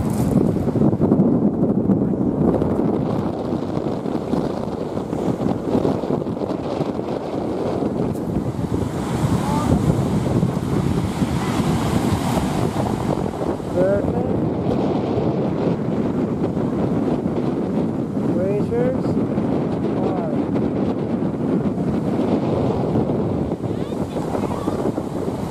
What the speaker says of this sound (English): we're on the Homer Spit. It's windy.